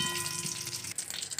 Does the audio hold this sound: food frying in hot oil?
yes